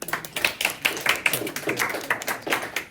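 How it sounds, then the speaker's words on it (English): Classroom applause for Ms. Forsting during an algebra review, a modest scattering of hand claps in a steady uneven patter, fairly close, with almost no voices. "Put your hands together for Ms. Forsting."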